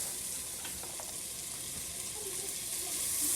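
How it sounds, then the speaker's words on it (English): Onions frying in melted butter in a pot, a steady near sizzle with faint scattered crackles and stirring, rising slightly toward the end. "So here's our butter. It's in the pot melting. And we're gonna go ahead and throw our onions in."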